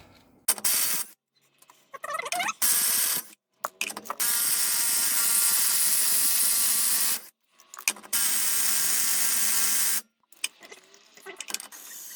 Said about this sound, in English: Use your baby impact to get the lug nuts off.